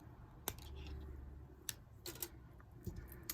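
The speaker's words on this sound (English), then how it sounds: "and we're going to cut off the excess." Scissors snip off excess thread on a handmade beaded icicle ornament, giving several sharp, quiet clicks spread out over a few seconds in a hushed room.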